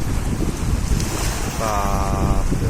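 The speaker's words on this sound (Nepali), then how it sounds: "यो गुवाटिसकेपछि पो छाल यस्तो आयो त। कत्रो स्पिड कुद्दो रहेछ त।" A passenger boat speeds across open water, its engine droning under heavy wind buffeting and the rush of waves, with a brief tonal hum rising midway; no clear speech.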